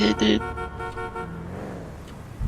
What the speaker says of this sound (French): Klaxon, klaxon.